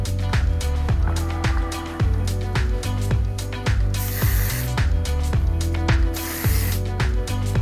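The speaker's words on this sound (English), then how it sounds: "I'm just sectioning this out and spraying on her root area." Two short, hissing aerosol hair spray bursts onto a client's root area, a couple of seconds apart, over steady background music.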